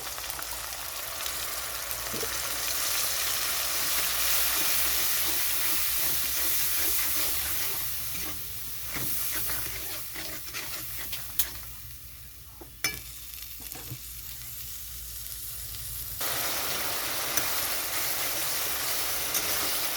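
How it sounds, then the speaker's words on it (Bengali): Spice paste of turmeric, cumin and dry chili for a prawn and potato curry sautés in a pan with a little water, giving a steady close sizzle with stirring scrapes that drops away partway through and then returns. "অল্প পরিমাণে জল দিয়ে দিচ্ছি মশলাটা কষানোর জন্য"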